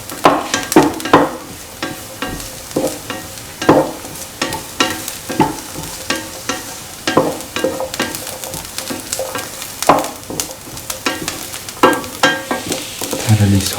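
Lemon chickpea rice is sautéed in a pan, with a spoon stirring and scraping in regular strokes over a continuous close, loud sizzle.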